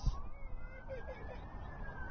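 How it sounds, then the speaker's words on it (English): A faint, distant emergency vehicle siren wails in a slow rising tone on a hillside in San Francisco, low in level beneath wind and outdoor background noise. "Oh, now I hear sirens."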